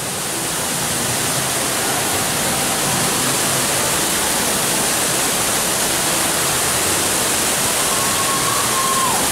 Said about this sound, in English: I mean, look at that waterfall.